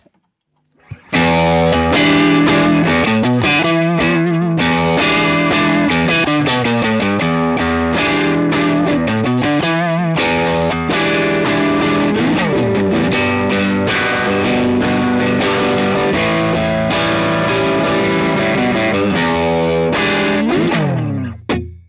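An electric guitar through a UAFX Ruby '63 amp emulator pedal, with a crunchy, amp-like driven tone, plays a busy riff continuously for around twenty seconds, strong and steady with no voices.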